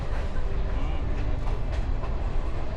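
Commuter train in Mombasa rolling along at speed, a steady loud rumble of wheels and carriage noise with faint clatter, heard from inside the car, with some voices mixed in.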